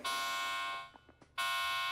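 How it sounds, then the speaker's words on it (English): Electronic alarm tone blaring during safe cracking in the video game Delta Force, loud and steady, cutting out briefly with a few faint clicks before resuming. "The alarm sounds."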